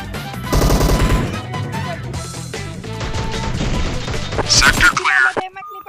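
Rapid bursts of video-game gunfire with crashing impacts ring out loud and close, mixed with in-game voices and players chatting.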